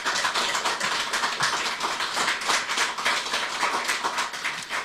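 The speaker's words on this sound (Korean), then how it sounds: "큰 박수 부탁드립니다" Loud, sustained applause from a large crowd at a political party rally launching the People Power Party's satellite party, a steady dense clatter of clapping filling the hall without a break.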